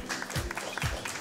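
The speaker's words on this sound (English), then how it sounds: "Please give him a nice round of applause, ladies and gentlemen." An audience at a business Q&A event gives a short round of applause for an ambassador, soft and brief clapping at a moderate distance.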